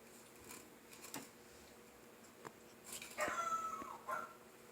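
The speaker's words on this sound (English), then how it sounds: "I can hear a dog." A dog makes a few short, distant yips and whimpers against a quiet room background, with a brief louder burst near the end.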